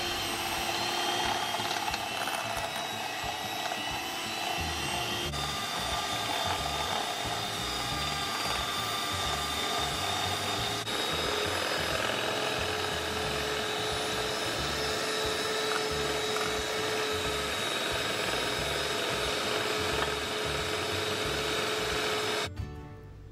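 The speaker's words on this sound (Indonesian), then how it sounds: "Kemudian mixer dengan speed tinggi sehingga berwarna sedikit putih serta lembut." Electric hand mixer at high speed beating butter and sugar for chocolate chip muffins, a loud, steady whirring whine with a slight rattling grind that runs unbroken for over twenty seconds, then stops abruptly.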